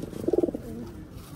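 Pigeons give a short, low, throaty coo made of a quick burst of pulsing notes and a softer trailing call, close by and alone.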